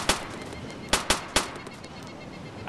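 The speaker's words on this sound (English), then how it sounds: "Are they shooting at you?" Gunfire in the military shooter Arma 2: a few sharp, loud single shots spaced irregularly, with one quick double crack, ringing out over a quiet outdoor background with no talk.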